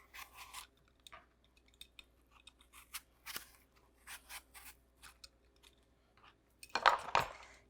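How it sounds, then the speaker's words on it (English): An apple being peeled with a knife in a kitchen, giving soft intermittent scraping and cutting strokes in short bursts, fairly close and quiet, with a louder pair of scrapes near the end and no talking. "Get most of the peel off the apple"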